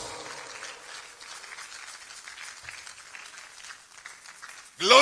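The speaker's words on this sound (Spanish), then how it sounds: "Dele un aplauso al Señor con todo su corazón" Church congregation applauds in a sustained, moderate wash of clapping that stays fairly even before a sudden loud burst at the very end.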